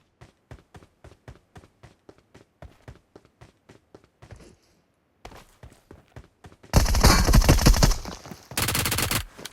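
P90 submachine gun fire in the mobile battle royale BGMI: a long string of evenly spaced single shots, then a brief pause and dense, loud automatic bursts toward the end.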